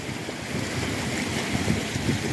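A clear mountain stream flows with a steady, even rushing hiss, close and continuous with no voices over it.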